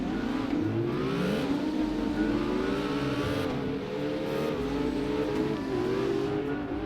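Simulated engine of a 700-horsepower Ford Mustang Cobra S650 drifting in CarX Drift Racing Online, revving steadily and loudly with rising and falling pitch throughout, no talk over it.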